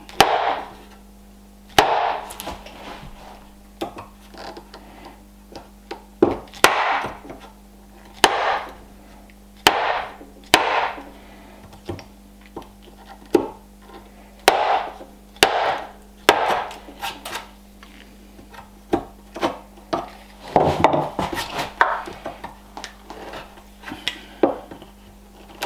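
Chisel cutting a mortise in wood for a Viking-style bed with traditional joinery, sharp repeated mallet strikes at irregular intervals, near and fairly loud, over a low steady background hum.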